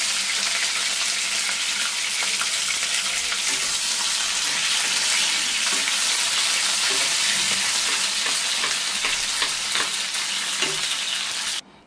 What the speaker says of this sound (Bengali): টমেটো, এগুলো এমনি বড় বড়ই একটু ভেজে নিচ্ছি।